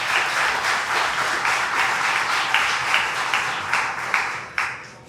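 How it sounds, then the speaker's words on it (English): An audience at a county fair opening ceremony bursts into dense, steady applause that carries on for several seconds. It stays loud and even before thinning out toward the end, with a few last claps left standing out. "Let's give them a round of applause."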